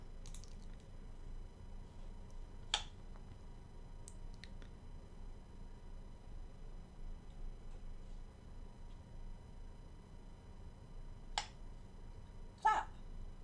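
A few sharp hand claps, sparse and spaced apart, each a brief crisp snap against a quiet, faintly hissing room.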